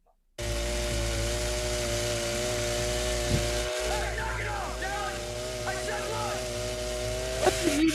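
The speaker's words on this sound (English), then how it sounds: "Gonna have a chainsaw fight." Chainsaws revving in a movie fight scene, a sustained buzzing engine drone that kicks in sharply and runs on with a brief dropout, while faint voices and shouts rise over it.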